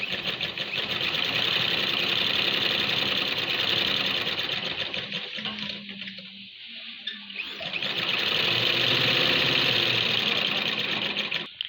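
A sewing machine stitches along the neck edge of a kurta, a loud continuous buzzing whir that briefly slows and eases near the middle before running at full speed again.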